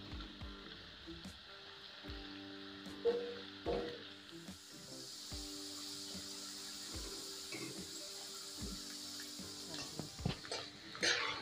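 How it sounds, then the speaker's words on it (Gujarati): Potatoes fry in oil while being stirred gently, giving a soft, continuous sizzle with scattered light scrapes and clinks under a low background hum. "તો બટેકાને આપણે તેલની અંદર હળવા હાથે હલાવી અને સરસ રીતના તળી લેશું."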